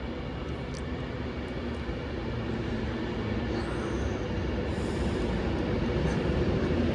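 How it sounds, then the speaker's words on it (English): A steady, loud rumble of an Avanti West Coast nine-coach train arriving at a Stoke-on-Trent platform, running on rails, continuous throughout with no talking. "The train now arriving into platform 1 is the 1810 Avanti West Coast service to London Euston"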